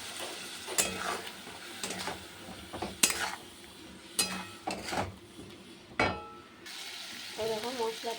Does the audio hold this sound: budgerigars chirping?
no